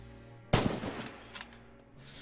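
A single sharp bolt-action rifle shot from Red Orchestra 2: Heroes of Stalingrad cracks loudly, and a fainter echo and some mechanical clatter trail off after it.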